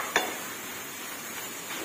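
Pickled bamboo shoots and pork are stir-fried in a pan. One sharp spatula scrape is followed by a soft, steady sizzle, brief and fairly quiet.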